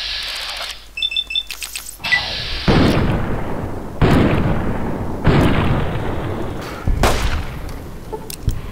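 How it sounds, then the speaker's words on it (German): A series of loud booming explosions with long rumbling tails repeats every second or so, each one followed by a crackling decay, with no talking, in the video game Fallout: New Vegas. "Hier sind wir doch irgendwie explodiert"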